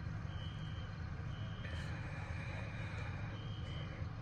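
Repeated high-pitched electronic fire alarm beeps sound at intervals over a low steady rumble, fairly faint and somewhat distant, at an inn during a fire.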